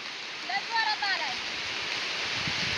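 A heavy unseasonal downpour hisses steadily over open fields, with a few faint whistling bird or voice-like tones briefly rising above the wash early on.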